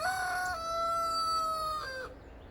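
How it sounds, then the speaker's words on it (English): A rooster at a small temporary outdoor chicken coop gives one long, clear crow lasting about two seconds, close and loud, with faint background noise and no talking. "let me show you the chickens outside and how our little coop setup is"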